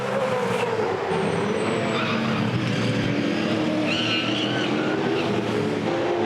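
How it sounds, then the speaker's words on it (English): V8 Supercars race cars at the 2007 Adelaide 500 street circuit, with tyres squealing under heavy braking amid a constant loud roar of racing engines. The squeals are brief and high-pitched, sitting over the steady engine noise, with no talking. "You can hear the tyre squeal in the background."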